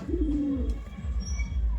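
Kaldom pigeons coo close by, one clear rising-and-falling throaty call at the start followed by softer, lower murmurs, with no one speaking.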